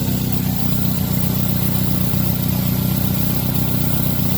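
A car engine idling on LPG gas equipment after diaphragm adjustment, a steady, even low rumble held close and loud with no change in speed.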